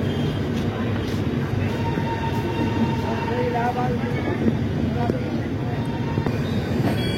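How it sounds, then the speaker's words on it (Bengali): A Humsafar Express train departs Gaya station, a steady rumbling rail noise with faint wheel squeals running throughout at constant loudness, with voices faintly present beneath. "ঠিক 8টা 10-এ ছেড়ে দিল গয়া"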